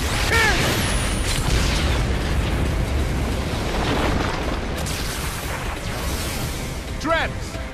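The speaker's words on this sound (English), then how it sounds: "A cannon!" A cannon blast in No More Heroes 3 booms amid a dense, continuous roar of explosions and game effects, with short whooshing swoops; voices speak over the din.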